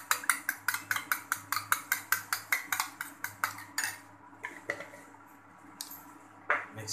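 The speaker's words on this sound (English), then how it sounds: "Mixing well." A utensil whisking omelette egg mixture with salt in a bowl: rapid, regular clinking strokes against the dish for about four seconds, then slower scattered taps and a final clink, close and fairly quiet.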